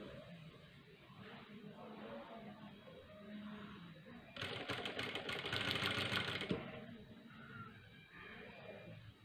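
A sewing machine stitches a blouse sleeve in a steady, fast mechanical whir for about two seconds midway, with quieter handling sounds and faint background noise before and after.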